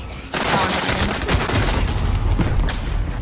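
Call of Duty: Warzone battle at a TV station: loud sustained automatic gunfire and booming impacts erupt after a brief lull, rattling continuously with sharp cracks layered over the din.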